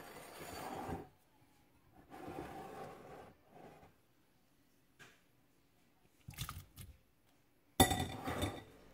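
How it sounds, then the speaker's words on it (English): Shrimp tipped into a bowl of Mexican shrimp cocktail sauce: a few bursts of wet sliding and clinking against glass, close and moderately loud, with quiet gaps between them. "I'm going to add the shrimp."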